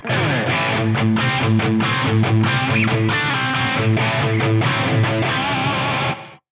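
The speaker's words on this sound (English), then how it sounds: "You get that iconic gated reverb sound." A distorted electric guitar through a Fractal Axe-Fx III plays chunky rhythm chords with abruptly cut, gated reverb tails, loud and continuous throughout.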